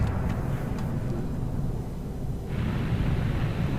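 A loud, sustained rumbling roar from an explosion in the Final Fantasy VII video game, dense low-end noise filling the whole stretch with a brighter hiss swelling in near the end.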